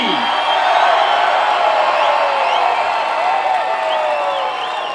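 A large crowd at a political rally cheers and applauds in a loud, sustained roar, with whoops and shrill whistles rising above the steady wash of noise.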